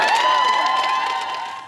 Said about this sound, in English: A large crowd bundled up against the cold to demand better working conditions.